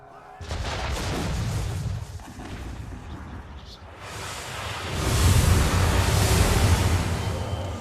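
Cannon fire in the Assassin's Creed III naval game, heavy booming blasts and rumbling explosions that pound continuously, easing briefly in the middle before surging louder again, with no clear speech over them.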